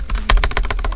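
Rapid typing on a computer keyboard, a steady run of close, crisp key clicks with one heavier keystroke partway through, no voices.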